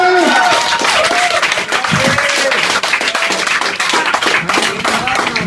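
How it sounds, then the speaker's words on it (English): Dense, continuous audience applause and clapping fills a comedy club after a stand-up set, loud and sustained throughout with a few cheers mixed in. "One more round of applause for Socrates."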